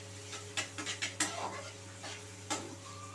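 Onions being fried to a light brown in a pan and stirred with a spoon, giving a few scattered scraping clinks and soft sizzling over a steady low kitchen hum, with no talking.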